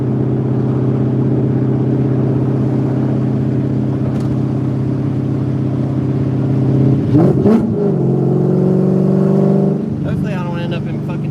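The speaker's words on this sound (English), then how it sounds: "This car's so loud." Coyote-swapped Ford Cobra engine drones loud and close at a steady idle-cruise, then surges in a brief rev partway through before settling back to a deep rumble; a voice speaks briefly over it.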